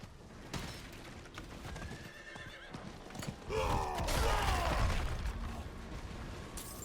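A horse in the Diablo 4 video game whinnies loudly mid-clip over soft, steady hoof clip-clops and game background sounds.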